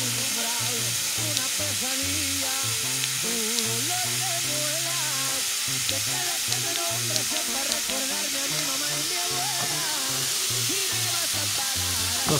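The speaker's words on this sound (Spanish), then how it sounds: "Entonces, estamos cocinando la carne" Meat sizzles steadily in a hot pan while being cooked for homemade Taco Bell-style tacos, a close, continuous frying hiss with occasional stirring and a faint voice underneath.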